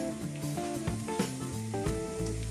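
Onions go into a pan with cooking oil and a little butter, setting off a close, busy sizzle and crackle, layered over a low, steady background drone.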